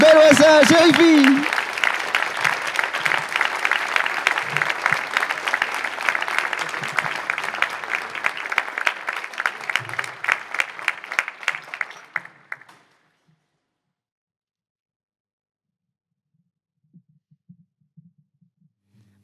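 A crowd applauds warmly for a deputy arriving at a New Year's greetings ceremony, the dense clapping sustained for about twelve seconds and then dying away into near silence, with a brief voice heard at the start.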